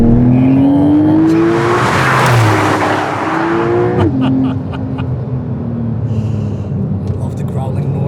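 A car engine growls loudly and close, its pitch climbing steadily as it revs hard, then dropping abruptly into a lower, rough idle-like rumble with faint ticking.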